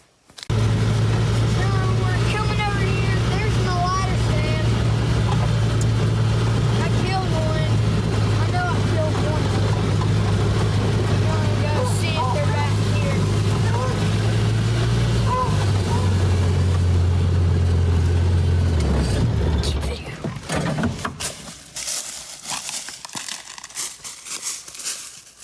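A Ranger utility vehicle engine runs loud and steady at close range for about twenty seconds with a constant low drone and some rattling, then drops off and fades, leaving only quieter scattered noise at the end.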